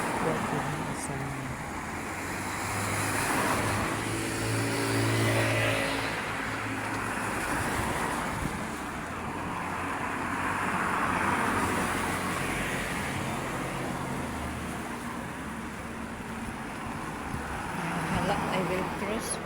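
Road traffic passes while someone crosses a street on foot, cars swelling and fading in soft waves of engine and tire noise at a moderate distance, with wind and faint murmurs of speech underneath.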